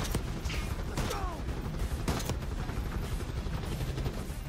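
Video game gunfire from Call of Duty Black Ops 6 crackles in a few sharp bursts over a steady dense background of mechanical noise and ambience, with no talk.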